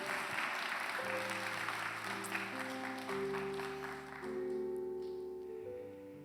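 A church congregation at a Friday worship gathering claps steadily over sustained keyboard chords, the clapping thinning out after about four seconds while the music carries on.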